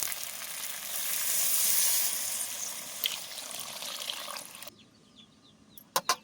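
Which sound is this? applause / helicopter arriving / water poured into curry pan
water poured into curry pan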